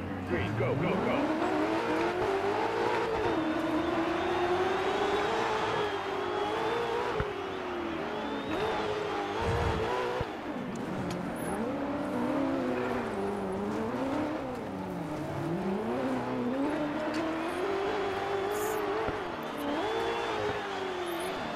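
Racing truck engines roar continuously in the Dirt 4 video game, including a Texaco-liveried truck, with pitch rising and falling through gear changes and a few tire squeals. The sound stays loud and steady throughout.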